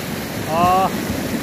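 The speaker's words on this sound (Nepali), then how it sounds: "रेली खोलाको बिचमा छु।" Water rushing over the bed mid-stream in the Relli river: a dense, steady wash of noise with a brief voice cutting in.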